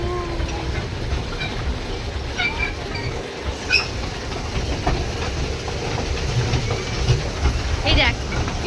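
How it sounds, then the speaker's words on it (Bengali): Toy train ride at Nicco Park, the rail car's steady rumble and faint clickety-clack running continuously up close under people talking. "তো এখন আমরা চলে নিচ্ছি টয় ট্রেন করে পুরো নিকো পার্কটা ঘুরে দেখবো।"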